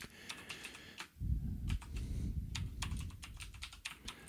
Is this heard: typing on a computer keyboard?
yes